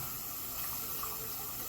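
Liquid poured steadily into a pan of mushroom gravy, a soft continuous watery gush and trickle at low level with no speech over it.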